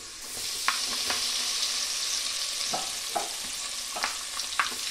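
Spice paste for pulao hits very hot oil in a pan, giving a loud, steady sizzle with scattered pops, scrapes and stirring clinks throughout; no one speaks.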